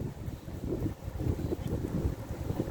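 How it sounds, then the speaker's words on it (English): A strong gust of wind sweeps in outdoors at a cook station, rumbling and buffeting loudly against the microphone in a steady, surging roar with no talking. "whoa, that's a strong gust of wind coming in."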